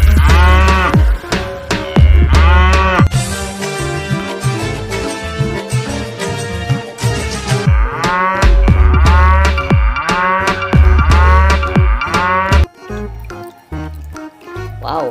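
Repeated cow moos, several loud drawn-out calls in a row close by, mixed with watery splashing and dripping sounds in between.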